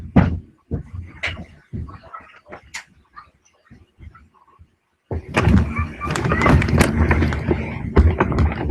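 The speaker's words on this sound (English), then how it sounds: "my door just opened. Looks like the kids are playing, and it's going to be loud." A home door opens with sharp knocks and thumps, then a burst of loud children playing and shouting nearby, chaotic and continuous through the second half.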